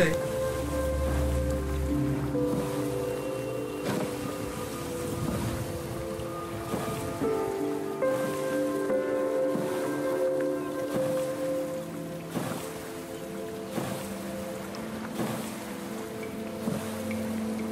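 A boat is paddled toward an island in the survival game Stranded Deep, with steady ocean waves, wind and water sloshing throughout and repeated soft splashes of paddle strokes at a regular rhythm.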